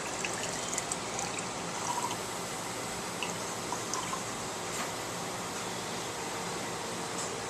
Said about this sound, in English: I'm going to pour this in to 250 milliliters, which is how much I want to put into the water bottle.